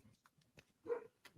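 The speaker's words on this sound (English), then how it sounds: "There's a a dog back there." A dog barks a few times in the background, faint and distant, in short separated bursts.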